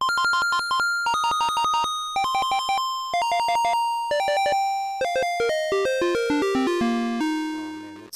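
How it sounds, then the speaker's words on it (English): Bright synth chimes ring out in quick, repeating bursts, like a retro video game block sound, stepping downward in pitch toward the end. "This is when you hit the question mark in Mario."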